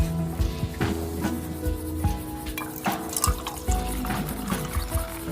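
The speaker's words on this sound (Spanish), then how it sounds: "vierta agua en el recipiente superior" Water poured into an upper container during a classroom-style demonstration of water's properties, with a steady liquid trickle and dripping heard close up against a busy, echoing room background.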